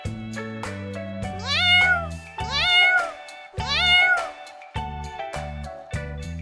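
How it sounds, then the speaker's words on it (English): Three drawn-out cartoon cat meows rise and fall over a bouncy children's song backing, each mew sliding upward in pitch before fading. "C for cat."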